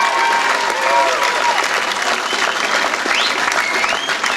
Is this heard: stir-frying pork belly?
no